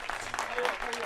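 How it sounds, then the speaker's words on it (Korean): A brief burst of audience applause at a KTM motorbike competition prize ceremony in Namyangju, mixed with voices talking over the clapping. "큰 박수 한번 쳐주세요"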